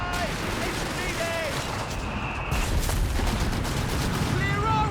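Artillery barrage and gunfire from a Company of Heroes 3 2v2 match, steady dense rumble of blasts with bursts of shots and whistling shells, loudness swelling near the end, with voices talking over it.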